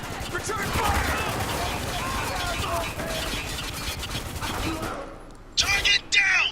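Rapid gunfire and machine-gun bursts in the video game Spec Ops: The Line, a dense loud barrage with shouted voices over it, ending in a pair of sharp closer blasts.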